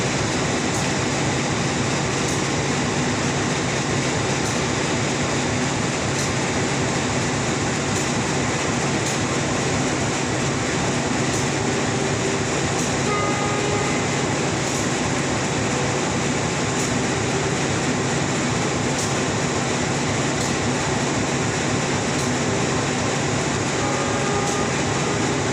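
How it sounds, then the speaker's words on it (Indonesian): A Jenggala commuter train arrives at Surabaya Pasar Turi station. A loud, steady rolling roar fills the whole clip, with regular faint clacks of wheels over rail joints and no talking. "komuter lain Jenggala yang akan siap merapat stasiun Surabaya Pasar Turi"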